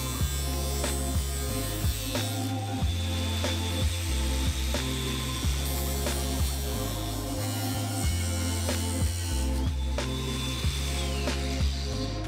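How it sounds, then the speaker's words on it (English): A power drill with a bit sized for shot glasses bores holes in wood for a bar shelf. It whines in short repeated bursts that rise and fall, heard close up with no talk. "drill some holes to make a shelf for them to hang in"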